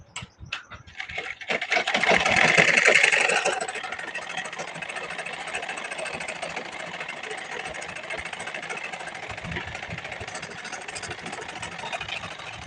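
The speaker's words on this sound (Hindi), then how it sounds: "अब जो बचा है इधर के साइड में हम यहाँ पे सिलाई लगा देंगे" A sewing machine stitches folded lace onto a blouse, with a steady mechanical whirr that runs for about twelve seconds and is loudest near the start, while a voice talks lightly over it.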